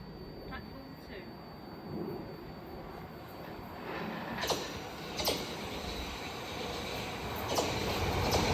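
A Gatwick Express service from London Victoria to Brighton passes through South Croydon station on the Brighton Main Line, a steady rumbling roar with a few rail clanks and squeals, heard from the platform.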